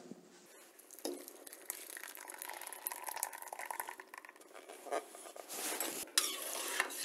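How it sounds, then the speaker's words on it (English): Smooth blended tomato puree for cream of tomato soup is worked through a strainer, giving a continuous wet scraping and stirring sound with occasional clinks of metal, close and moderately quiet. "Now what we'll do is, we'll strain this through a strainer."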